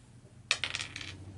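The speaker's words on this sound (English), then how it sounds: "why don't you roll me a D6?" A six-sided die clatters across a table during a Shadows of Brimstone board game session, one sharp strike followed by several quick bouncing rattles that fade within a second.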